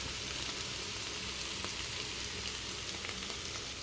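Bitter gourd curry sizzles steadily in a pan after being mixed, giving an even, soft hissing crackle with scattered faint pops and no voices.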